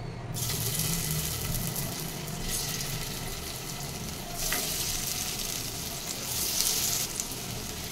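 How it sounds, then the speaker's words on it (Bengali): Bottle gourd cubes fry in hot mustard oil in a pan, a steady loud sizzle and crackle running throughout with brief surges of spitting hiss, no voices. "তেল গরম হয়ে গেছে। এবার আমি লাউয়ের কিউবগুলো দিয়ে দেবো।"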